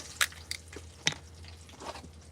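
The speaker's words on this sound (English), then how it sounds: "I usually like to get a fresh bottle of spring water and water my plants." Spring water poured from a bottle onto houseplants, heard as a few faint, soft drips and splashes spaced irregularly over a quiet low hum.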